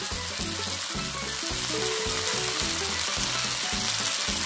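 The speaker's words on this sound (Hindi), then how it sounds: "पहले अंदर की जो सब्जियां हैं वो सब तवे में अच्छे से पक जाएंगे" Vegetables for a bread pizza sizzle steadily on a hot tawa over medium flame, a close, continuous frying hiss with rhythmic low scraping from a wooden spoon, no voices.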